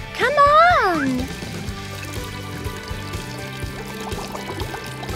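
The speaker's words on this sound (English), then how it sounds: "Let's fill it with water." Water pours steadily into a container for a sink-or-float experiment at home, a continuous splashing trickle under a loud cartoonish sound effect and background music, with no clear speech.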